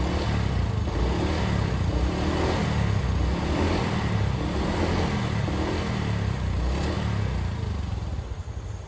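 A motorcycle engine, its water pump blown, revs loudly and steadily during a sound check, with a dense broadband roar and rattle that stays near and constant before easing slightly at the end.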